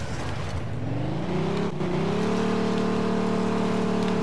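Car in the video game Mafia II stuck in place and revving, a steady loud engine drone rising in pitch then holding high, with a rain-like hiss underneath throughout.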